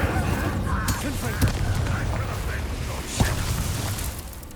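Incendio fire spell cast in Hogwarts Legacy, a rushing burst of crackling whooshes and sharp pops from close up, with a voice in the game speaking over it.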